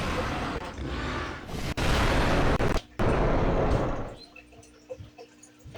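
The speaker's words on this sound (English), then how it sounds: "And here's call." A Tropeognathus in the Roblox game Dinosaur Simulator gives a loud, harsh, broadband call lasting around four seconds, broken by brief gaps, then cut off to quiet game ambience.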